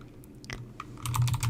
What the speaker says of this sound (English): So click New and type in